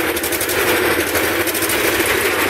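A T-16 tractor diesel engine with an inline fuel pump running on an experimental hookup, a rough, dense, steady roar close by that stays level throughout, with no speech.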